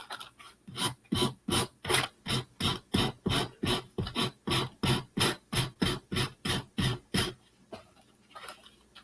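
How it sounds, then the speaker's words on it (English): Hand sanding of a wooden yard flower hanger post: about twenty steady back-and-forth rasping strokes in an even rhythm, close and fairly loud, then trailing off into quieter outdoor background. "I'm thinking maybe I should sand it."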